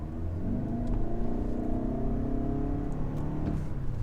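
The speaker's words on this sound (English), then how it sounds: "driving the 2022 Lexus ES 300h F Sport, which is the first F Sport for the 300h" A 2022 Lexus ES 300h F Sport hybrid sedan drives along with a steady engine hum and rising revs, a continuous road rumble heard from inside the cabin with no talking.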